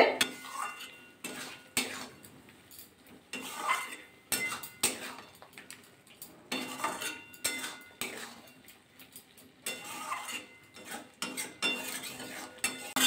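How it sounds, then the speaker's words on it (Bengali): Flat beans coated in poppy-seed paste with a little sugar and water are mixed in a pan, with rhythmic bursts of spoon scraping and clinking against the metal, close and moderately loud, separated by short pauses. "ভালো করে মিশিয়ে নিতে হবে।"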